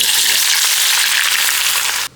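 Sliced onions sizzle loudly in hot oil, being fried crisp as a topping for beef biryani, a dense steady hiss close up that cuts off abruptly at the end.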